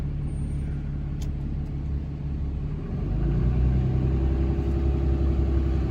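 A dumpster truck rolls onto a weigh scale, its heavy engine rumbling close by. The rumble swells louder about halfway through, and a brief high hiss comes early on.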